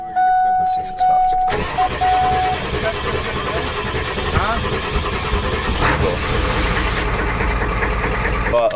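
A car engine cranks and catches, then settles into a steady, rough idle, loud and close, with a person talking briefly over the start.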